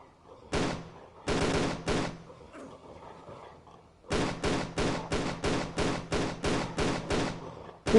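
Gunfire in Tomb Raider: The Angel of Darkness: two short separate volleys, then after a pause a steady run of about ten sharp, evenly spaced shots, loud and close, with no talk.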